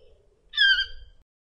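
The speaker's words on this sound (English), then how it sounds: "Toucans are very talkative and make lots of different sounds, from squawks to clicks." A toucan gives a single harsh, raspy squawk lasting under a second. It stands out clearly against near silence, with faint low rustling around it.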